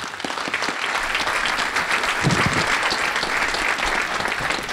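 Audience applause welcoming a guest speaker to the stage at a university brown-bag lunch talk: dense, steady clapping from a roomful of people, sustained at full strength throughout.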